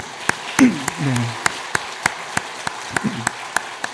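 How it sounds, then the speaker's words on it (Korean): A church congregation gives a welcoming round of applause. Sparse, distinct claps fall at roughly even intervals, while a speaker's voice briefly sounds over them. "활짝 웃으시면서 환영한 박수 부탁합니다."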